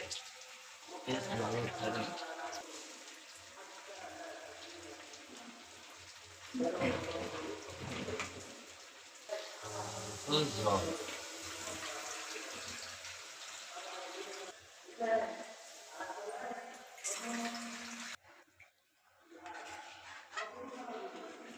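Water is poured into a pan of boiler chicken curry while cooking, a splashing, running pour heard in bursts under a person talking throughout.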